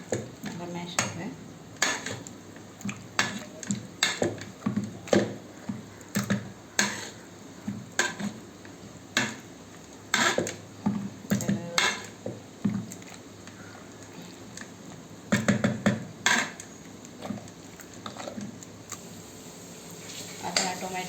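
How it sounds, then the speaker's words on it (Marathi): Boiled vegetables being mashed in a pot for pav bhaji, giving repeated irregular thuds and scraping knocks of a masher against the metal in a steady rhythm throughout. "आता यातलं पाणी काढून याला मॅश करून घेऊया."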